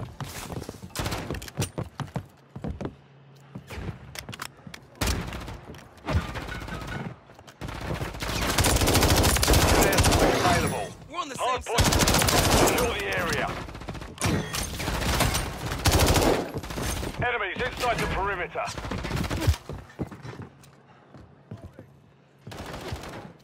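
Bursts of automatic gunfire and heavy firefights from Call of Duty: Modern Warfare 3 multiplayer, loud and dense through the middle, with scattered shots, footsteps and radio-style voices shouting in between.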